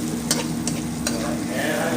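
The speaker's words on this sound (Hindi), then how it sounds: "थोड़ा और प्याज लाल करेंगे" Onions with ground ginger frying and sizzling in a pan, with occasional sharp stirring clinks over a steady crackle, close and moderately loud, no talk.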